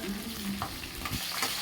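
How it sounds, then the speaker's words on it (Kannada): Garlic, mustard seeds, dry red chillies and curry leaves fry in hot oil for a tempering, giving a steady close crackling sizzle with a brief stir scrape partway through; no one speaks. "ಒಣಮೆಣ್ಸಿನ್ಕಾಯಿ, ಸ್ವಲ್ಪ ಕರ್ಬೇವಿನ ಸೊಪ್ಪು ಹಾಕ್ಬಿಟ್ಟು ಚೆನ್ನಾಗಿ ಅದು ಬೆಳ್ಳುಳ್ಳಿ ಇದೆಲ್ಲ ಹಸಿ ವಾಸನೆ ಹೋಗೋವರೆಗೂ ಎಣ್ಣೆಯಲ್ಲಿ ಹುರ್ಕೋಬೇಕು"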